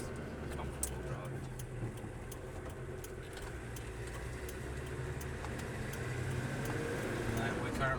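A 1987 Volkswagen LT35 Westfalia campervan drives along at a steady pace, its mid-pitched engine drone and road rumble continuous and close throughout, with faint rattles over the cabin noise.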